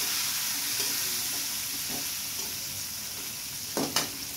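Cumin and whole spices fry in hot oil in a pan for an egg dish with winter vegetables, giving a steady close sizzle throughout with a few brief stirring scrapes near the end.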